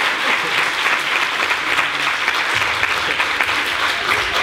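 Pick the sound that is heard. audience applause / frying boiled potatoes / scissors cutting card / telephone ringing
audience applause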